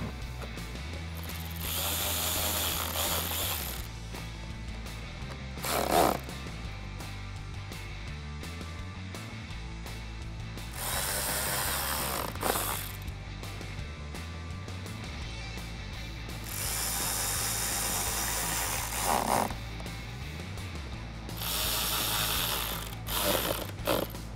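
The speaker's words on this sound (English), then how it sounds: "I'm just going to use my 7mm socket to put those into place" A 7mm socket ratchet tightens bolts on a GT500-style rear diffuser fitted to the bumper of a 2018-2021 Mustang, giving four separate bursts of rapid close clicking, each a few seconds long with quiet pauses between.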